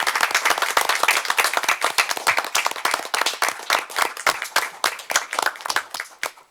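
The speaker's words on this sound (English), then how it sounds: "if we could give them a round of applause" A small audience at an evening event claps in a round of applause, individual sharp claps clearly distinct and uneven, loud and close, thinning slightly toward the end.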